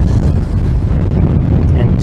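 Strong, steady winter wind in an open paddock roars and buffets the microphone throughout, a loud continuous low rumble with gusty fluctuations.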